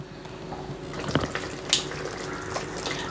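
Coarsely ground onion paste being stirred into a pan of Old Delhi style chicken changezi, with a soft, steady sizzle and wet scraping broken by a few sharp spoon clinks against the metal, close by and with no voices.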